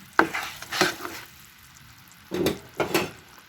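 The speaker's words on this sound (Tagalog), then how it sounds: "Doon ko ngayon hahaluin siya doon sa malaking kawali." Caramel popcorn with a little butter is stirred in a large pan, making four separate scraping, rustling strokes with short pauses between them. It is close but fairly soft against a quiet sizzle.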